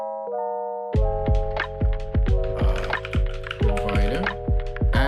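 Keystrokes on a computer keyboard, a dozen or so sharp clicks in an uneven run over a steady tonal hum, with occasional quick bursts of several keys close together.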